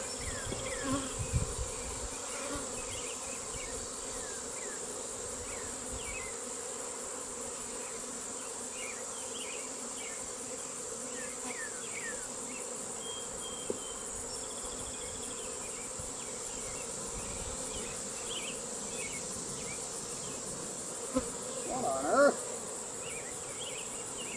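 A steady, dense buzz of many honey bees around an open hive hums throughout, close and continuous, with occasional faint knocks and rustles.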